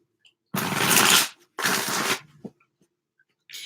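Tarot cards shuffled in two loud, close bursts of rapid riffling, each about a second long, then a few faint taps and a brief final riffle, with no voices.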